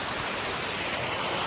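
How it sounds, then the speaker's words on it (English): Mountaineer Falls, a waterfall on the Appalachian Trail, gives a steady, dense rush of falling water that stays even and unbroken throughout. "It's a waterfall day."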